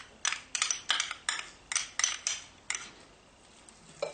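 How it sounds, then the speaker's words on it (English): Utensil scraping and clanking against a pot while funeral potato ingredients with minced garlic are mixed together, a steady run of about ten sharp clinks, fairly close and moderately loud, then a pause and one more knock, with no voices. "we're just going to be mixing everything together"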